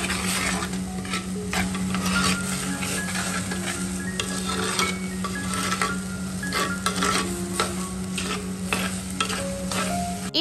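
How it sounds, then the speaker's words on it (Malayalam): Soaked basmati rice is stirred in a hot pan with mushroom, scraping and clinking against the metal over a steady sizzle, close and continuous without talk. "എന്നിട്ട് എല്ലാം കൂടി നന്നായിട്ടൊന്ന് ഇളക്കി മിക്സ് ചെയ്തെടുക്കുക"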